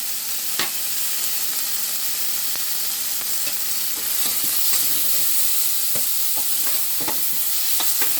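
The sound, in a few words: stir-frying masala with chili powder and chopped coriander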